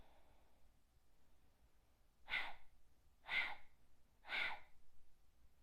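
Three forceful yoga breath exhalations, sharp bellows-like bursts of air expelled from the lungs, evenly spaced about a second apart, close and alone in a quiet room.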